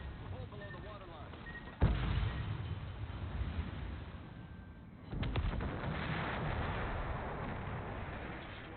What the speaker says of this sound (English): Enemy destroyer blown up